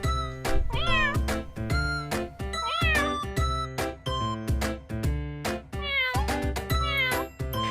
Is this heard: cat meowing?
yes